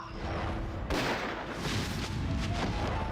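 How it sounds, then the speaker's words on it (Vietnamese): A gunshot rings out in a period drama set during the anti-Japanese war, a single loud sharp crack that cuts in suddenly over steady background noise and leaves a dense, rumbling tail. "Sau đó chưa đến 2 phút thì tiếng súng vang lên."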